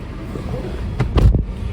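A 2015 Hyundai Grand i10 Magna diesel car idles nearby with a low, steady engine rumble, broken by a few short, louder mechanical knocks near the end.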